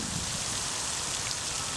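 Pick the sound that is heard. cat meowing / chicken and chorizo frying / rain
rain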